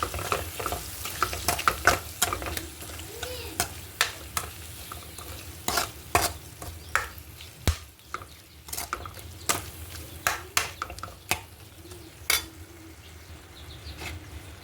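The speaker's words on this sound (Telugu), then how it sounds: "ఒకసారి తిప్పుకుందాం." Prawn curry sizzling in a pan while it is stirred, with repeated sharp scrapes and clinks of the spoon against the pan over a steady frying hiss, close and alone.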